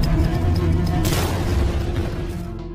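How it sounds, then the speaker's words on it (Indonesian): A deep, rumbling boom with crackling debris as a headquarters building explodes in an action film, rolling on and slowly fading, loud and cinematic. "sebelum markas itu hangus meledak"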